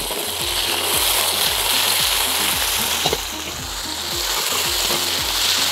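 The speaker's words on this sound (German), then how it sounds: "fügen wir das ganze Fleisch hinzu und braten das von allen Seiten gleichmäßig an" Steady, crackling sizzle of meat frying in hot oil in a kazan wok, loud and close, with a continuous spattering hiss and occasional soft knocks of a utensil.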